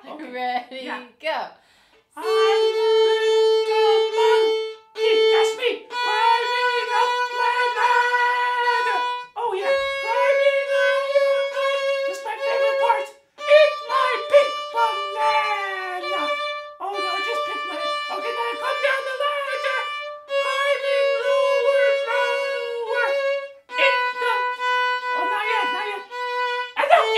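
A violin plays a bright, continuous melody of sustained, harmonically rich notes with short pauses between phrases, close and loud throughout.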